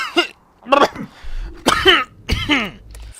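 Someone coughs close up, several times, in short harsh bursts with throat clearing in between, loud and uneven, against a low background hum.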